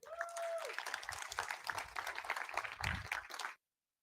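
Conference audience applauding a speaker as she takes the stage, a dense burst of many hands clapping that holds steady for about three and a half seconds before cutting off to silence.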